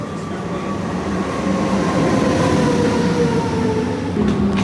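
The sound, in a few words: Swiss train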